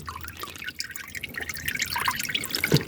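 Seawater drips and trickles as it is poured, a steady run of small wet splashes at close range with no talking over it.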